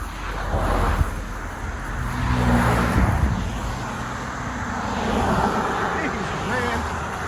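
Cars pass on a road near a river crossing on a hiking trail, their engine and tire noise swelling and fading twice over steady wind noise at the microphone.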